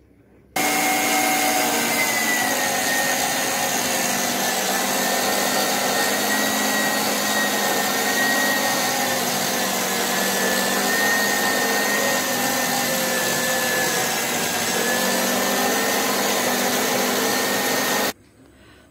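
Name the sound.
electric meat grinder mincing chilled beef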